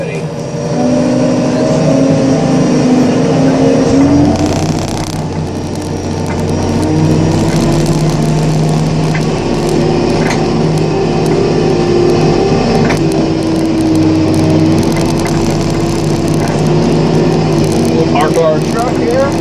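Aircraft jet engine applied to reverse thrust power after an air start on the ground, a loud continuous whine and roar rising and holding steady with shifting tones, under occasional talk.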